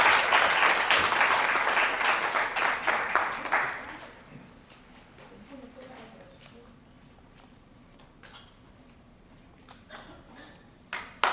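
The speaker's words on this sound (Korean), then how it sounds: "다시 한번 따뜻한 박수 부탁드립니다" Audience clapping at the close of an M&A forum award ceremony, loud and dense for a few seconds before thinning into scattered claps, with faint shuffling and room noise afterward.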